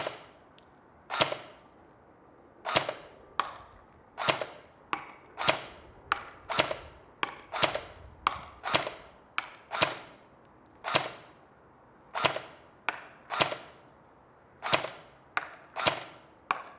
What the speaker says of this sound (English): I think I fired 12 shots at the box